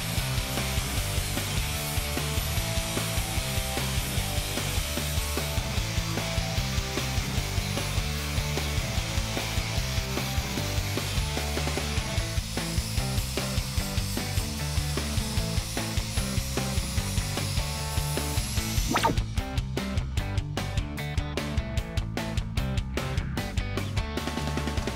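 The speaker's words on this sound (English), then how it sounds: "all you have to do now is dress the cuts with a grinder and pull this thing together" Steady, harsh grinding as an angle grinder dresses cut edges on a truck frame during an LMC long-bed to short-bed conversion, continuous and close with a raspy rhythmic texture throughout, no talk.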